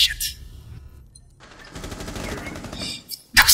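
Enemy gunfire from an upper floor in the tactical shooter Rainbow Six Siege: a sustained automatic burst rattles in the middle of the clip, framed by sharp, loud close shots at the start and the end.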